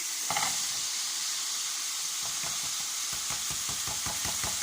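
Spinach and potatoes hit a hot pan and sizzle in a loud, steady hiss, with rhythmic scraping stirs joining in toward the end.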